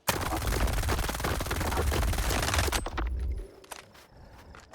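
Rapid automatic rifle fire from an AKM-74S or AR-416 in STALKER 2 hammers loud and continuous for nearly three seconds, then stops, leaving a few scattered clicks and thuds.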